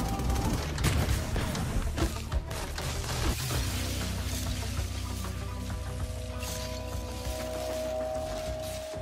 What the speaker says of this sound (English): Automatic turrets is so cheating!